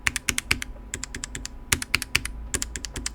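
Typing on an HHKB keyboard fitted with Dynacap sliders, with quick irregular bursts of clacky keystrokes and a slight collision clatter as keys bottom out, close and fairly loud with no voices.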